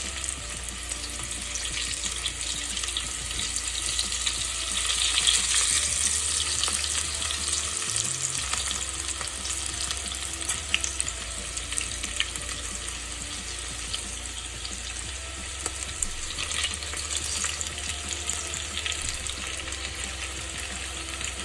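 Okra deep frying in hot oil, a dense, continuous bubbling sizzle that stays steady for the whole stretch, close up with occasional light crackles and no voices.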